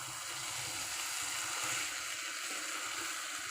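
Small shrimp and sugar being stirred into a vegetable curry in a hot pan, giving a steady, continuous sizzle and hiss with faint scraping underneath.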